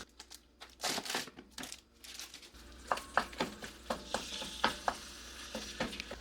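Ground turkey, three pounds, browns in a pan with a drizzle of olive oil, giving a steady crackling sizzle punctuated by a series of sharp scraping stirs from about the midpoint onward, close and fairly quiet.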